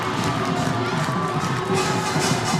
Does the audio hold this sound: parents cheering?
yes